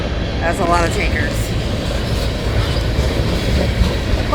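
Long Canadian Pacific tanker freight train led by two engines rumbles steadily past nearby in Winona, Minnesota, loud continuous wheel and car noise with a brief high whistling tone early on and a person speaking briefly over it.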